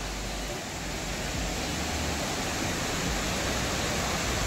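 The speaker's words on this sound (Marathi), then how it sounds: "पुढे धबधबा आहे" Waterfall at Dhutpapeshwar temple in Rajapur, a steady, dense rush of falling water that holds evenly throughout, filling the space without pause.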